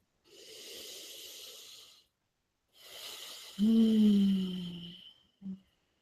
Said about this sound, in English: Big breath, make some sound.